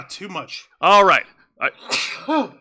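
A single loud sneeze bursts out between bits of casual talk, with speech before and after it.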